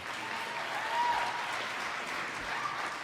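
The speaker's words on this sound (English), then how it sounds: "I want to hear applause if anyone has heard of the Kings of Leon out there" An awards-ceremony audience applauds steadily at a modest level, with the dense patter of many hands holding evenly from start to finish and no voices on top.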